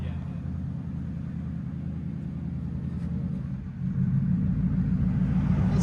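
A 1996 Lexus LS 400 with a 4.0L V8 and straight pipes idles with a steady, deep, throbbing burble, close by, growing slightly louder near the end.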